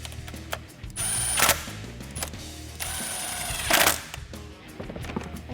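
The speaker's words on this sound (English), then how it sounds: "Tighten down the two 10mm nuts." Ratchet tightening two 10 mm nuts on a fuel rail bracket on a 1986-2017 Mustang GT, with two bursts of fast, close clicking a few seconds apart amid quieter shop handling noise.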